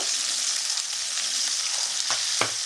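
Potatoes sizzle steadily in a pan with peas going in for a Bengali-style cabbage dish, a loud, continuous frying hiss up close, with a couple of sharp stirring clatters near the end.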